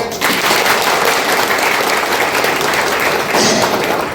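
A large crowd claps steadily and loudly, a dense wash of applause that carries on without pause.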